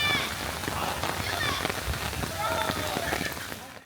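Heavy rain pours steadily on the OU campus, a dense close hiss of drops hitting surfaces that continues throughout with a few brief scattered noises on top.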